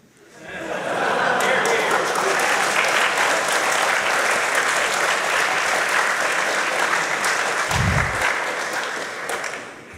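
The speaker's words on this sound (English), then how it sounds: "Drink got a huge round of applause." Audience at an Oxford talk breaks into loud, sustained applause that swells quickly and holds as a dense crowd wash, with a brief low thump partway through.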